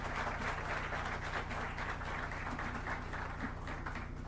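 Steady round of audience applause at a moot court prize distribution ceremony, continuous dense clapping from a hall crowd throughout, no talk over it.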